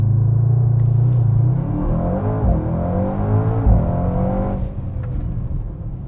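A Mercedes-AMG GT 63 S 4MATIC+ 4-door coupé sits in a deep, loud idle rumble and then pulls away under launch control, its engine rising through several gear changes and fading slightly as it goes.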